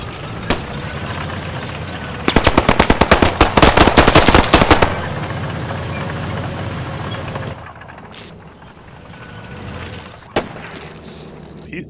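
Video game gunfire: a single shot, then a rapid automatic burst of about two and a half seconds, loud and close, followed later by another isolated shot over a steady background.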